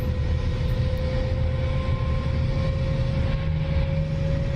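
An SR-71 jet in the DCS flight simulator sits with engines running, a steady loud droning roar with a constant hum, unchanging throughout and without speech.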